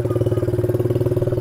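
A modified Honda Astrea cub motorcycle built in a BMX bicycle style accelerates with a single twist of the throttle, its small engine pulsing in a steady, rapid loud chug close by, with no talking.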